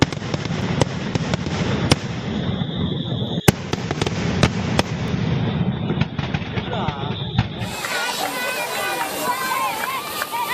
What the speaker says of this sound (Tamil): மக்கள் விதவிதமான ஃபேன்சி ரக பட்டாசுகளை வெடித்து தீபாவளியை கொண்டாடினர்